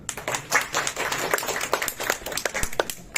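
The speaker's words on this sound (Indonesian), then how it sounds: "Boleh dong tepuk tangan." Audience clapping at an Indonesian health talk, a close, dense patter of many hands in a small room, steady for a few seconds and then fading.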